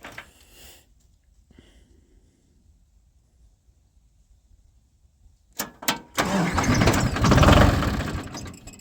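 An old Ford engine is cranked and starts in the cold, a few sharp clicks followed by a loud catch and a rough, roaring run that stays up close.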